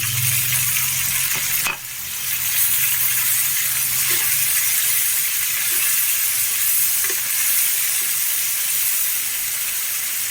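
Chopped tomato drops into a hot pan of frying mixed vegetables for Maharashtrian Bhogi chi bhaji, bringing a steady loud sizzle with a brief sharp burst near the start and faint stirring scrapes throughout.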